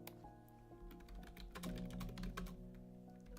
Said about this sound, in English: Enjoy the typing ASMR real fast.